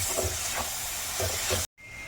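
Masala cooks in a pan with a little water, giving a loud continuous hiss and sizzle with faint bubbling, which cuts off abruptly near the end and returns more quietly.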